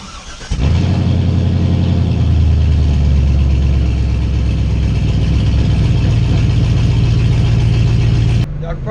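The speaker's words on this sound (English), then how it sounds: "Y'all can probably hear the car is already warming up" A vehicle engine starts and then settles into a steady, throbbing idle while warming up, close and loud for several seconds before cutting off abruptly.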